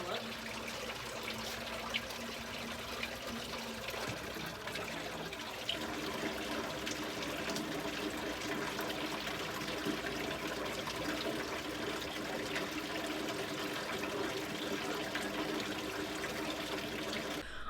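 Steady water trickles and splashes continuously at close range from a patio water feature, a constant gentle flow with no break for the whole stretch.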